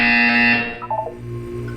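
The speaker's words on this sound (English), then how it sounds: "You will hear a buzzer." Electronic buzzer in the video game Portal 2, a steady bright tone sounding for about half a second, then cutting off and leaving a low room hum.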